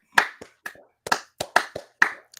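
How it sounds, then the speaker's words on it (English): Bare hands clapping in short, uneven bursts of several sharp, close claps, with brief silent gaps between the clusters and no talking over them. "Let's just clap it up."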